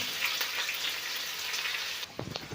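Onions sizzling in hot oil in a pan for soybean sabji, a steady close crackling hiss that drops off near the end, followed by a few stirring clatters.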